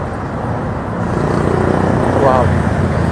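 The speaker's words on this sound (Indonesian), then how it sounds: "beneran ini di pinggir jalan banget di atas tol. Jadi memang sore-sore gini udah mulai macet, berisik banget" Busy afternoon traffic on a congested roadside beside an elevated toll road makes a loud, continuous roar of passing vehicles.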